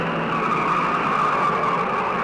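A stock car racing at Darlington Raceway in 1971 skids toward the wall, a loud, sustained roar of engine and tire noise that holds steady without a break.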